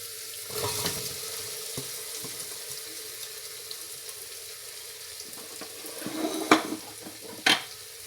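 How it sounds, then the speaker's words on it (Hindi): Onions frying in a pan for a chana dal, giving a steady soft sizzle with light scraping and a couple of sharp spoon clinks toward the end; no voices. "अब इनको अच्छी तरह भूनेंगे। थोड़ा सा ब्राउन करेंगे।"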